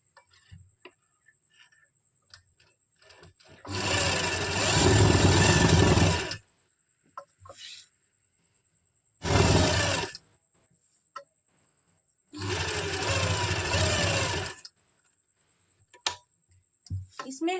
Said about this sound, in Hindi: हम सिलाई लगा लेंगे।